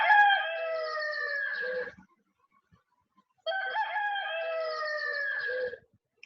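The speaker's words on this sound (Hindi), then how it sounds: "मुर्गे की कुकड़ू कू" A rooster crows twice, each long cock-a-doodle-doo lasting about two seconds, loud and close, separated by a short silence.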